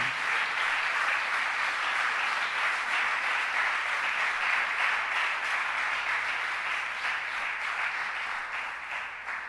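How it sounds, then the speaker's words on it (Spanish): Sustained applause from a church congregation during a sermon, a dense, even roar of clapping that holds steady and fades slightly near the end, with no talk over it. "Denle un aplauso a Dios por eso"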